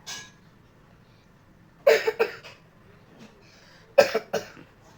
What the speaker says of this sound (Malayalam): നിങ്ങൾ വേണം കഫ് ചെയ്യാൻ